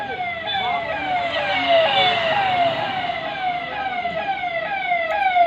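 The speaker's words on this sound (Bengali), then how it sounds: "অ্যাম্বুলেন্স আসছে" An ambulance siren passes, its wailing tone sweeping down repeatedly in a steady cycle, loud and fairly close throughout with faint traffic beneath.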